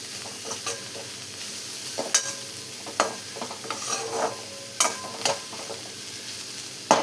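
Cabbage and spring onion sabzi fries in a pan with a soft continuous sizzle while a spoon scrapes and stirs it, leaving irregular clinks and knocks against the metal, with no voices.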